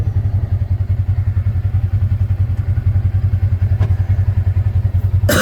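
A four-wheel drive vehicle climbs a steep slope on rural land in Arkansas, its engine droning low and steady close by, with occasional thumps and clatters from the rough ground.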